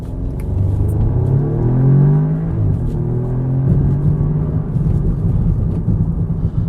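An Audi S3 turbo engine accelerating hard above 3,000 RPM, a loud continuous rumbling drone with rising harmonic pitch sweeps as it pulls through the revs, heard from inside the car with no talking.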